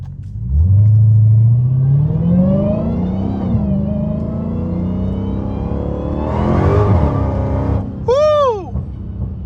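A Dodge SRT Hellcat accelerates hard, its deep engine roar climbing through the gears, loud and close, then a sharp high tire screech wavers briefly near the end.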